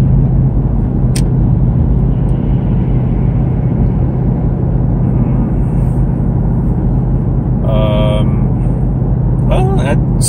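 A Ford Mustang cruising at about 70 mph fills the cabin with a loud, constant road and engine roar, a steady drone with brief higher tones near the end.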